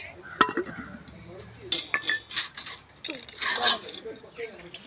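Dishes and metal vessels being scrubbed and handled at home, with scattered clinks and clatters of utensils coming in bursts, loud and close, while a voice talks intermittently.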